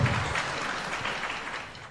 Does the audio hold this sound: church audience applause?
yes